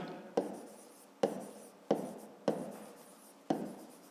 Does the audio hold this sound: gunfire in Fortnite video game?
no